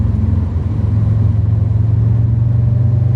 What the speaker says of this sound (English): the soundtrack, listen to that. It's got the same kind of induction noise as the FK2 as well